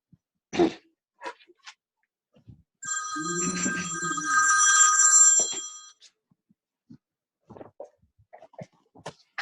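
A mobile phone rings with a repeating electronic tone for about three seconds during a book launch gathering, with coughs, throat clearing and scattered room noise before and after.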